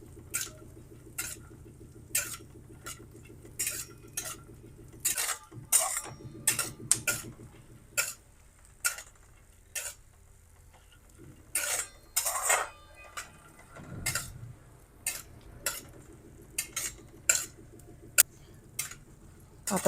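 Watermelon and sunflower seeds being dry-roasted and stirred in a pan over a low flame, with bursts of crisp rattling clicks and scrapes at an irregular stirring rhythm, close and fairly quiet.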